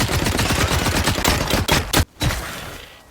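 Rapid weapon fire in The Cycle: Frontier, loud bursts of close gunshots in quick succession, a sharp gap of near silence, then a final shot trailing off into echo.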